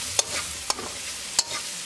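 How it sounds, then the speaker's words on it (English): Garam masala, black pepper and turmeric cooking in a pan, with a soft sizzle and a few sharp spoon scrapes or taps as the spices are stirred. "Cook the spices for a half minute."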